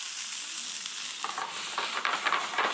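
Sliced leeks sizzling in hot oil in a skillet, a steady frying hiss with crackling spatter and a few stirring scrapes growing busier toward the end.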